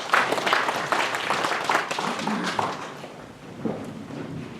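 Audience applause at a residents' briefing on the Daejeon–Chungnam administrative merger in Gyeryong, a crowd clapping steadily and fairly close, easing off and trailing away over a few seconds.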